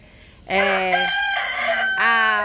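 A chicken crows at close range after a brief quiet start: two loud, strained, tonal calls follow each other with barely a pause, each one breaking at its end.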